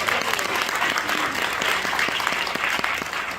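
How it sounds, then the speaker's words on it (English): An audience at a Black History Month celebration breaks into applause, a dense, steady wash of many hands clapping at once, loud and sustained throughout. "Give her a round of applause, please."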